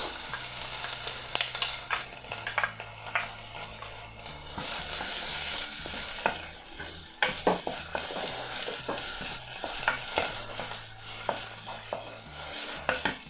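Onions sizzle and crackle steadily in a hot pan, with occasional stirring scrapes and light clatter, close up and continuous.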